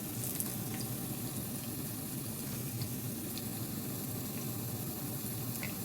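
Keto onion rings frying slowly in olive oil, a steady, dense sizzle with faint crackles and pops that holds an even level throughout, with no voices.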